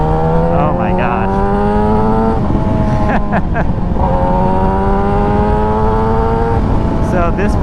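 A 2017-2021 Yamaha YZF R6 engine at full throttle in third gear rises in pitch steadily, loud and close, with a brief dip as revs settle before it climbs again.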